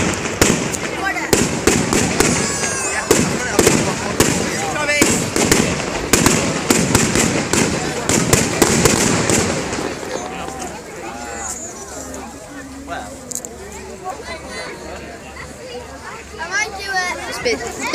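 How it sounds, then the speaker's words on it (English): Bonfire night fireworks display going off in rapid bursts of loud cracks and bangs for the first ten seconds, then sparser distant pops and crackles beneath crowd chatter. "fireworks display."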